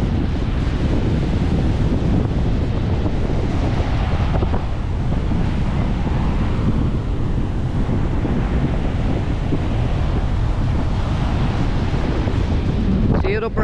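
Strong wind buffets the microphone over big sea waves crashing on a debris-strewn shore, a loud, continuous roar with surging swells and no clear voices.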